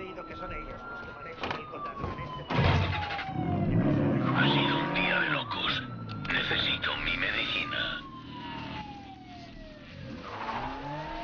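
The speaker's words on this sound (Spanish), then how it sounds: "Uy, sale el coche, sale." A car driving off in the Mafia III video game: a revving engine and tyre screech with wailing police sirens sweeping through, loud and close, and voices now and then.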